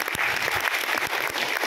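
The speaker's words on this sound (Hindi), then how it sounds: "तालियां भाई के लिए" Brisk applause from an audience at a business meeting, with some individual claps standing out sharply over a steady patter.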